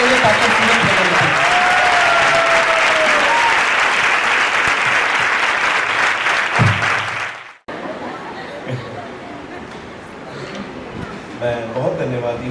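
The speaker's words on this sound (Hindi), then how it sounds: "हम सभी अपने तालियों को बजाते हुए उनका स्वागत करेंगे। जोरदार ताली बजाएंगे पास्टर सूरज प्रेमानी।" Audience applause at a Methodist church gathering welcoming Pastor Suraj Premani, loud and sustained for about seven seconds with crowd murmur, then fading into quieter room noise with scattered voices.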